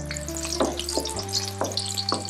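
Garlic fries in oil that is slowly heating toward golden, giving a steady close sizzle over a sustained tonal hum, with a few soft ticks scattered through.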